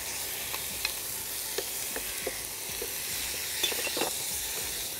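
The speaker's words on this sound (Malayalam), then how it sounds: "മട്ടർ മുറുകി മസാല ഒന്നും കൂടി ഒന്ന് എണ്ണയിൽ ഒന്ന് മൂത്തിട്ടുണ്ട്." Masala sizzles steadily in hot oil in a pan as chicken is added and stirred in, with soft scrapes and clicks from the spoon over the constant close frying hiss.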